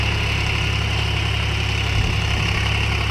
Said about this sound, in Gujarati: જો મિત્રો ટ્રેક્ટર ખેડવાનું ચાલુ છે, કઈ રીતે ખેડાય છે જુઓ તમે